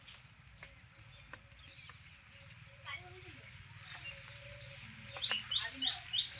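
Sparrows being fed sev outdoors give quick, faint chirps and tweets that grow busier toward the end, with people talking nearby.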